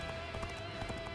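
Horse hooves gallop in Dynasty Warriors: Origins, a quick, quiet run of clip-clop beats under steady game music.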